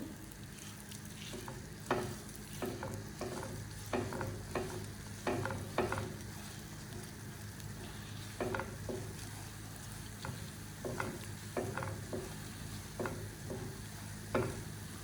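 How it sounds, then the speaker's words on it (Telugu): Coriander and cumin seeds fry in a little hot oil in a pan, a steady close sizzle broken by repeated scraping stirs and small ticking pops throughout, with no talk. "ధనియాలు, జీలకర్ర వేసుకుంటున్నాను. ఫస్ట్ బాగా వేపాలండి వీటిని."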